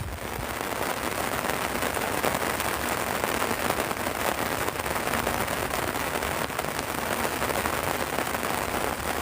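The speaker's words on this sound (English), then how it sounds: "It's raining at the moment." Rain falls steadily outdoors, a dense, even hiss of drops drumming on a surface like a tent, constant and loud throughout with no voices.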